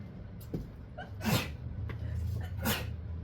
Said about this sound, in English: Oh goodness, I just sneezed.